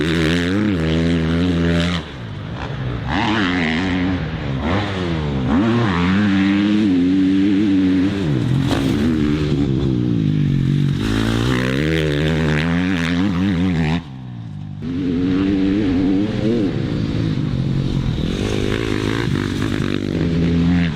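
A KTM dirt bike laps a slippery motocross track, its engine revving up and down in repeated surges with gear changes, loud and close, and two brief dips where the throttle drops off.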